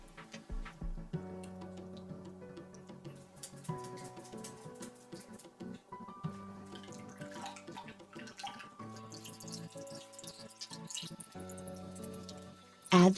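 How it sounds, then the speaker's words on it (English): Water drips and trickles from crushed onion draining in a strainer, faint and intermittent beneath background music. "Add the crushed onion to the strainer and drain the water."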